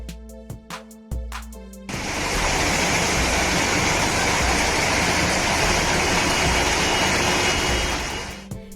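Flash flood water rushing through streets in Russia after nonstop overnight rain, a loud continuous roaring torrent that starts abruptly after a few seconds of clattering noise, then holds steady before easing slightly, with no talking.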